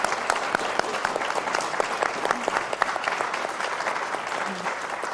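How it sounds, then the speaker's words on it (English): Audience applause for three panel speakers at a design talk, a dense, steady clapping from a room full of people that holds for the full length without a break. "let's give a round of applause to these three"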